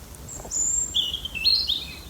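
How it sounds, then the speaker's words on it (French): High, thin bird whistles and trills ring out at night over a hushed, still background, a few short phrases close together. "c'est la nuit, les oiseaux chantent"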